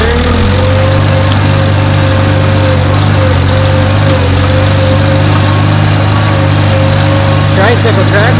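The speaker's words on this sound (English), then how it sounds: "Tricycle tractors are nice because they turn sharp." A tricycle tractor's engine drones loudly and steadily while planting corn, close and constant throughout, with a voice faintly talking under it.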